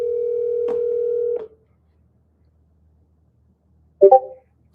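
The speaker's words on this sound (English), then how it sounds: "those 2 rings you heard, the one ring and then voicemail, that's a person" A telephone rings once with a single long, loud tone in a quiet line, followed by silence, then a short burst of the line connecting as the call is forwarded to voicemail.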